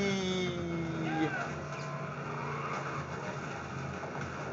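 Rumbling car engine noise in the video game Mercenaries 2, with skidding tire squeals on a slippery surface and a sliding pitch sweep, then a burst of crash impact noise around the one-second mark, all fairly loud and continuous.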